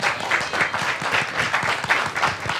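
Loud, energetic applause from a crowd, dense overlapping claps sustained throughout with a few whoops mixed in.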